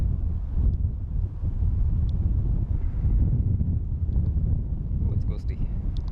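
Gusty wind buffets the microphone at Dublin Airport, a continuous low rumbling roar that swells and eases, with a few faint high chirps late on.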